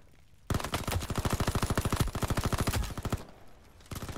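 Rapid automatic gunfire from a first-person shooter video game, a loud sustained burst of evenly spaced shots lasting about two and a half seconds, then a short lull before more shots resume.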